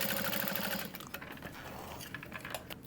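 Sewing machine back stitching a vinyl pouch: a fast, even mechanical chatter at close range that slows and roughens partway through, with light ticking and clicks, no voices.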